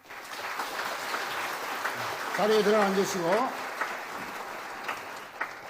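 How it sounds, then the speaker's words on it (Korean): A church congregation at a dedication and ordination service applauding, a steady spread of clapping under a man's spoken instructions, swelling briefly in the middle. "인사할 때 또 크게 박수해 드리겠습니다."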